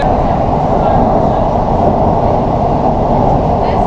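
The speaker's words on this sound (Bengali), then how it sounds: "আন্ডার ওয়াটার মেট্রো অর্থাৎ গঙ্গার তলা দিয়ে কিন্তু যেই মেট্রোটা যাবে" A loud, steady rumble and roar of an underwater metro train running through a tunnel beneath the Ganges river between Sealdah and Howrah, continuous throughout.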